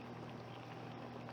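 A pot of peony liquid boils down on a stove, a faint, steady bubbling hiss that continues evenly through the short stretch, alone with no talk.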